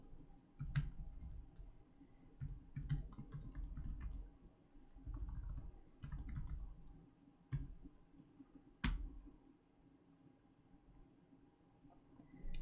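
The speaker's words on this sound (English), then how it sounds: "So we type in the SQL query we want to execute" A computer keyboard being typed on to enter an SQL query, with irregular clusters of crisp key clicks and sharper single taps separated by brief pauses, close by with no talking.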